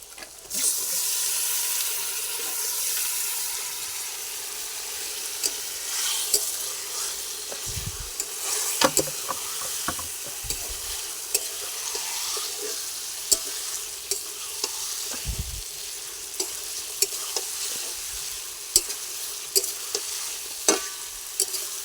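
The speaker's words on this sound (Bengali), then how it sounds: "মশলা থেকে তেল ছাড়া শুরু করে দিয়েছে। এবার মাংসটা ঢেলে দেবো।" Country chicken is poured into hot spiced oil, with a continuous loud sizzle and repeated scraping stirs of a spoon against the pan throughout, no voices.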